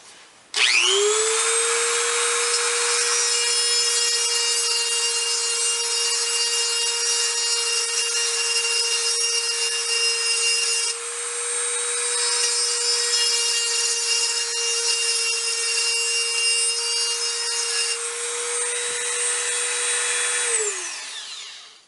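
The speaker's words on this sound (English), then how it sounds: "I was afraid that the rotary tool might walk itself out of the groove and damage a tile" Dremel rotary tool with a 1/16 inch bit whines at high speed as it cuts a groove in tile, a steady close grinding hum that spins up at the start and winds down at the end, with no voices.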